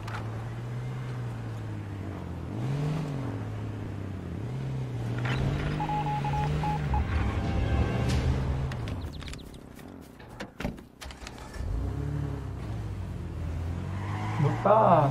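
A motorbike engine in the H1Z1 battle royale game revs and drones with rising and falling pitch, close up, with a brief tire squeal and other game noises as a voice talks over part of it.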